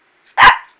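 A single sharp bark from a house dog, loud and close, a short burst about a quarter second long that rises abruptly out of silence and fades quickly.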